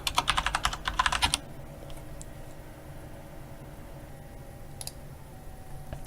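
Rapid keystrokes on a computer keyboard typing a web search, a close burst of clicky tapping for just over a second, then near silence with a couple of isolated clicks.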